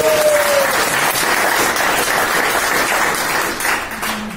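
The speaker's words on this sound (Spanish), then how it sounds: "Aplausos." An audience at a church talk gives sustained, dense applause that stays loud and steady throughout, with a brief tonal sound near the start.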